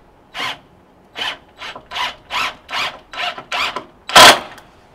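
An accessory being screwed into a countersunk spot inside a Tesla Model 3, heard as a series of about eight short, rhythmic rasping turns close by, ending in one louder scrape, with no voices.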